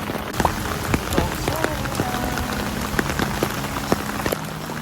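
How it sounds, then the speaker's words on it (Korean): Heavy rain falls in Tokyo, splattering on hard surfaces in a dense, steady patter sprinkled with sharper nearby drips, with faint voices underneath. "비가 너무 많이 와서."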